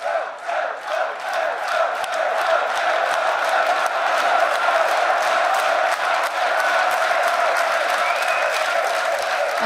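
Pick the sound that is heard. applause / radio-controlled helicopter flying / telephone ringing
applause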